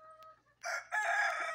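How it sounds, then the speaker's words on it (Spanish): Farmyard hens and a rooster: soft clucking, then a loud, close crow in two long bursts that fills the short stretch. "Ahí tengo las gallinas"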